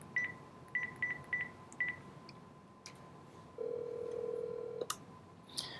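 A Panasonic KX-TPA60 DECT handset gives out a quick run of short, bright telephone keypad dialing tones, with a longer steady tone after them, quiet and near with no talking.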